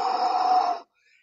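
A firefighter in a barn breathes through a self-contained breathing apparatus. One long, harsh, close rasping breath lasts under a second and cuts off abruptly into silence.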